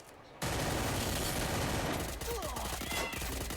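Rapid bursts of gunfire in the video game Free Fire, loud and continuous after a brief quiet start, with dense volleys and sharp reports overlapping throughout.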